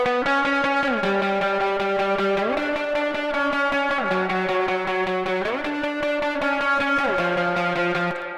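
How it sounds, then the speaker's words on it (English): Sustained distorted electric guitar chords run through Safari Pedals effects with dramatic reverb and compression, a thick shimmering wash that shifts between a few chord changes, loud and continuous with no talking. "I want to hear the reverb"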